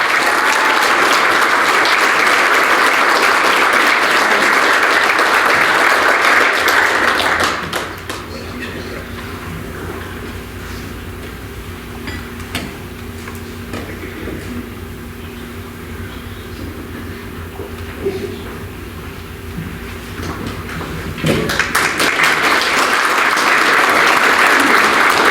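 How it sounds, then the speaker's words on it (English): Loud, dense applause at a sports hall of fame luncheon for an award winner stops abruptly, leaving a quieter stretch of low room hum and faint murmur before the clapping surges back just as loudly near the end. "Let's give her a big round of applause."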